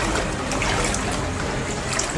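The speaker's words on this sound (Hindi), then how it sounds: "रिहायशी इलाकों में बाढ़ का पानी घुस गया है" Floodwater flowing through residential streets in Kochi, Kerala, a dense, constant trickling and rushing wash of water close by, with no voices.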